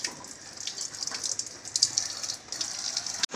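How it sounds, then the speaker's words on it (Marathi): A crab is rinsed under a running kitchen tap, a hissing, splashing stream that rises and dips as it is moved beneath the water, ending in a sudden knock and a louder gush. "सरळ नळाखाली धरायचं आणि स्वच्छ धुवायचं"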